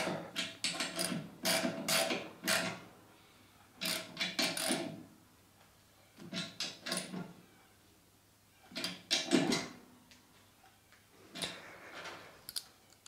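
A flaring tool clamps a brake line tube and forms a flare, giving clusters of sharp metallic clicks and ratcheting ticks in bursts with brief pauses, close up and without speech.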